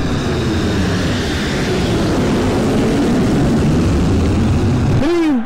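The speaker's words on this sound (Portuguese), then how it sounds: "Olha o avião da Webjet informando o tempo." A Webjet airliner flies over a football stadium in Pro Evolution Soccer 6, a steady loud engine roar with crowd noise blended in, rising to a brief whine at the end.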